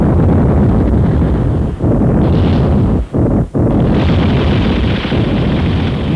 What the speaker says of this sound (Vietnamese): Tiếng đại bác của quân ta đã...